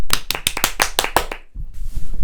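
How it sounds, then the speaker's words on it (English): Seven or eight sharp, close hand claps in quick succession from a couple of podcast hosts, then a stop, followed by faint low rumbling. "Let's give him a round of applause."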